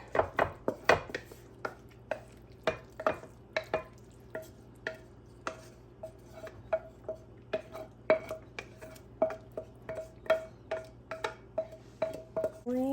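Rabbit shepherd's pie filling is spooned from a pan into a casserole dish. A close run of regular clinks, taps and scrapes of a utensil against cookware repeats about once per second.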